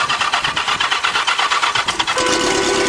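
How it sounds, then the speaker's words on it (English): Motorcycle engine on a dune buggy cranking and catching, a rough rhythmic churning that settles into a steadier running note near the end, close and loud. "Just let it idle. If you rev it, it'll stall."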